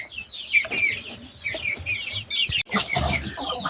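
Chickens and a grey rooster cluck in a farm setting, with overlapping clucks and calls of varied pitch, a few sharp knocks and rustles, close and lively, with no talk.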